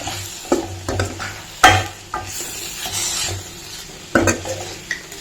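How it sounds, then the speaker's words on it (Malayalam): Tomato rasam stirred in a pan, with repeated scraping and clinking strokes of a spoon against the metal over a low simmer, a few sharper knocks standing out, no speech. "ഇപ്പൊ ബാക്ക്ഗ്രൗണ്ടിൽ ഞാനിങ്ങനെ ഇളക്കാന്ന്"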